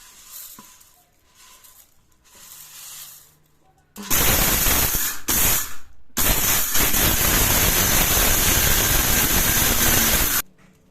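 A kitchen mixer grinder pulverises curry leaves and lentils into a spice powder, roaring in loud bursts of whirring grinding after a few quieter moments of handling.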